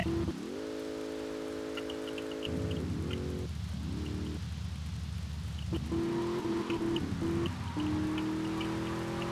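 Rain patters in the video game GTA Vice City, a soft steady hiss beneath the loud droning tones of car engines rising and falling, with a few faint chirps scattered through.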